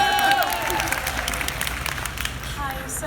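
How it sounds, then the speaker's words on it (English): Audience at a BookCon 2018 BookTube panel applauding for Danny, a broad steady wash of clapping from a crowd with faint voices mixed in, tapering slightly toward the end. "Let's everybody clap for Danny"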